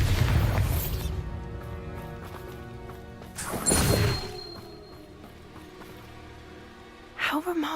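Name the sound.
Bombarda spell blast in Hogwarts Legacy video game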